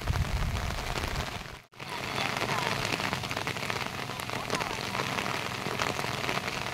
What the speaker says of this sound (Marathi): पाऊस आहे ना, त्याच्यामुळे बावळेत पाणी भरला